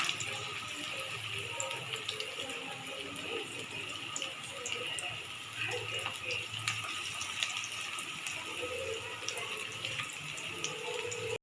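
Pakoras dropped into hot oil fry with a steady close sizzle and bubbling hiss, continuous and even, with occasional soft clinks.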